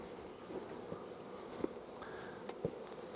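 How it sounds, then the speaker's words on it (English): Honey bees buzz around mini nucs being set up for queen rearing, a steady low hum filling the clip with a few faint knocks and clicks close by. "any of these bees that are loose will most likely form a cluster in the center"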